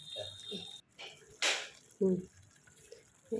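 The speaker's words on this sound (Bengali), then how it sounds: "এটা ধুয়ে দিয়ে দেবো মিক্সির বাটিটা একটু পোস্ত লেগে আছে তো একটু ধুয়ে দিয়ে দেবো" A mixer grinder bowl with poppy seed paste stuck to it is rinsed under water, heard as short splashing and running-water bursts separated by pauses, with faint voice sounds in the background.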